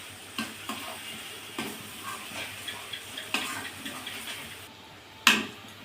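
Spices frying gently over low heat in oil for a mango oil pickle, a soft steady sizzle with occasional light stirring taps and one sharper clatter near the end, no voices.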